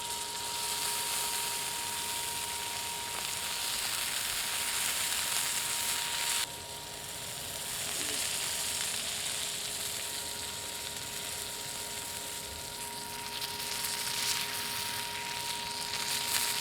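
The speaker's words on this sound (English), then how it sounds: "Check out that sizzle." Steady, close sizzling of a tomahawk ribeye steak searing in a hot pan, a continuous crackling hiss that briefly dips and then resumes.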